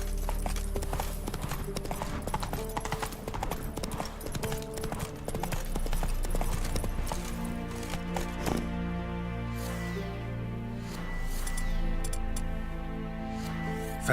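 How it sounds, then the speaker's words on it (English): Horse hooves clip-clop steadily in The Witcher 3, a mount galloping and trotting in a continuous rhythmic beat, loud and close, with game music layered underneath. "Whoa there, Roach."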